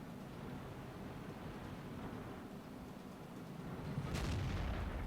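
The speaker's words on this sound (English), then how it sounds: "Takes another shot, that one misses." A tank cannon fires once in World of Tanks, a single heavy boom about four seconds in, rising over a steady low battlefield rumble.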